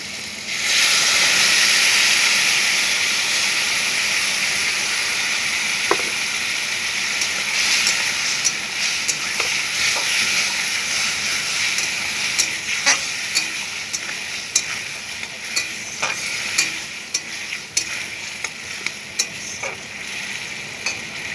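Homemade spice paste frying in a pan with salt and turmeric for a Malabar spinach chorchori, a steady close sizzle and hiss running throughout with occasional sharp crackles and scraping stirs, no talking.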